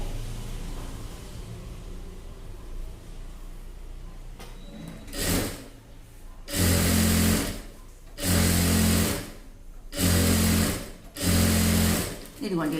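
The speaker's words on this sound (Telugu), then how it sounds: "డబుల్ స్టిచ్చింగ్ వేయాలి" A sewing machine running double stitching on a chudi pant, whirring in four short, loud bursts separated by brief pauses, with low background hum and handling noise before it starts.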